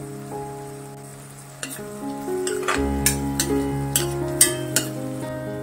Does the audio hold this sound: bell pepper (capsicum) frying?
yes